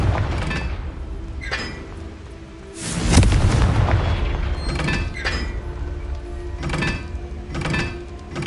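Blasting-curse explosions in Hogwarts Legacy go off as a heavy boom followed by several further thudding blasts at irregular intervals, loud against a low background rumble.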